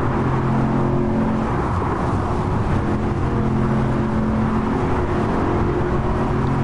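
A video game car engine runs steadily at high revs through a nine-speed gearbox near top speed, a loud continuous droning whine throughout with no breaks or talk.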